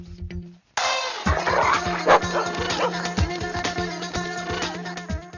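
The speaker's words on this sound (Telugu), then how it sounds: "అరే ఇది మన కుక్కలా ఉంది." A dog barks and whimpers in a comedy film scene, with a rapid series of close, loud yips and barks mixed with whining, continuing for several seconds.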